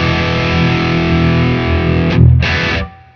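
A heavily distorted electric guitar chord rings out loud and sustained, then cuts briefly and rings again before stopping.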